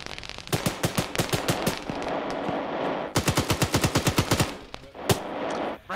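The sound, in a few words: heavy gunfire, bullets fired in one direction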